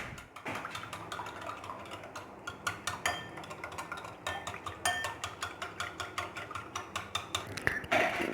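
Salt and milk being whisked together in a bowl for parotta dough, producing quick, rhythmic clinking taps of a utensil against the container, faint and steady.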